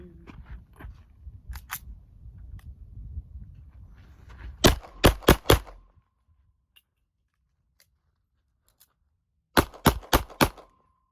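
Sharp gunshots from a Sig 226 Legion SAO pistol on a sandy outdoor range: a volley of four quick shots, a stretch of near silence, then another rapid string of four, loud and close.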